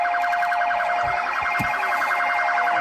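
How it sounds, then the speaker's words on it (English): A police siren sounds loud and close on a New York City street, a continuous rapid warbling wail that holds steady throughout, with a couple of faint low thumps underneath and no speech. "enough with the siren"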